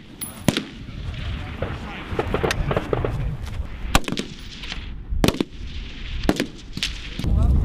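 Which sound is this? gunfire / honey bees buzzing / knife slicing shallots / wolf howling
gunfire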